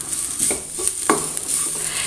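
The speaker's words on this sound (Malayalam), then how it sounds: "ഇനി ഇത് നല്ലോണം നമ്മൾ കൈയെടുക്കാതെ ഇളക്കി കരിയാതെ നല്ല ചുവക്കെ വറുത്തെടുക്കണം" Grated coconut roasting in coconut oil while being stirred, giving a steady sizzle with a few soft scrapes of the spoon against the pan, close by and with no voices.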